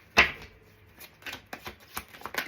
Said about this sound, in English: I'm going to keep shuffling until they pop out.